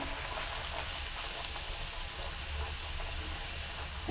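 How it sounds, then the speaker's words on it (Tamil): Poori frying in hot oil, a steady, close bubbling hiss of the dough puffing up that holds at an even level throughout with no talk. "நம்ம பூரியை போட்டு பொரிச்சு எடுத்துக்கலாம்."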